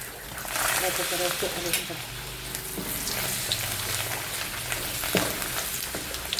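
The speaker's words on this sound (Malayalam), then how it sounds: "നമ്മുടെ എണ്ണ ചൂടായി, നമുക്ക് പപ്പടം ഇടാം." Papadum fries in hot oil with a steady, close sizzle and scattered crackles while a person talks over it.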